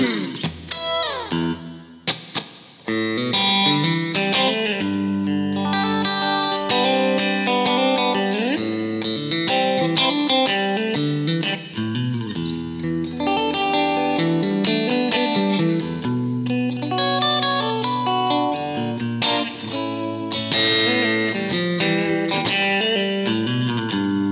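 Distorted electric guitar on a Mayones guitar plays a busy run of notes and chords, thick with effects and a little echo, loud and continuous without any speech.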